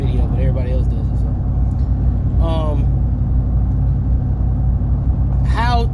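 A car engine rumbles steadily and loudly while the car is driven, with someone talking over the continuous low drone.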